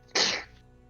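A person gives one sharp, loud sneeze that starts abruptly and trails off quickly into quiet.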